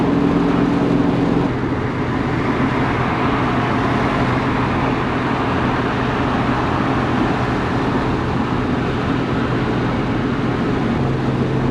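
Car with new 3.55 rear gears and a limited-slip differential cruising at 60 mph around 2,600 RPM, a steady, continuous engine and road drone from inside the cabin with no talking.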